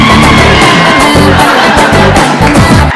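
A studio audience claps and cheers at a Telugu comedy show, a dense, loud roar of applause with whoops and yells that keeps going the whole time, with some shouting voices mixed in.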